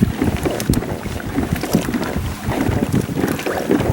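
Steady wind gusting over the water while sailing a Hobie Tandem Island, a broad, continuous rush with constant microphone buffeting and splashy surges, fairly loud and close with no one talking.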